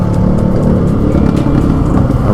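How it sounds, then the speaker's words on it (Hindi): Light road traffic in Sonipat rumbles loudly around a moving motorbike, with a steady close engine drone and constant wind roar. "ये देखो ट्रैफिक हमें सोनीपत में मिल गया है, हल्का ही ट्रैफिक है"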